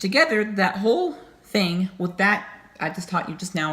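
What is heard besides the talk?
No distinct noise like a dog, phone or traffic.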